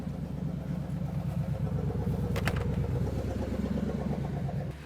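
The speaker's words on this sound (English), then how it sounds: "Whew, loud vehicle." A loud vehicle rumbles close by with a heavy, throbbing low engine note held for several seconds, steady and near, then cuts off abruptly at the end.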